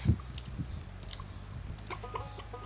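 A chicken in the farming video game Stardew Valley gives soft, short clucks, a couple near the start, quiet under faint game background sounds.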